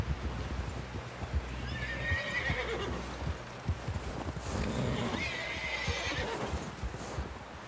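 Horse in Red Dead Redemption 2 neighing twice with hooves clip-clopping through a busy outdoor camp, the whinnies standing out over a steady low rumble of ambience.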